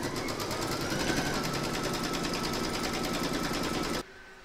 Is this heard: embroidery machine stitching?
yes